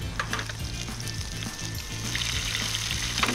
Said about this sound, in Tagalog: isi-sear ko siya ng by batch